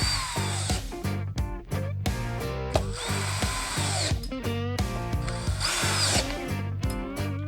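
A power driver with a T20 bit tightens hinge screws on a Harley-Davidson tour pack, giving a close, loud motor whine in repeated short bursts with brief pauses between them.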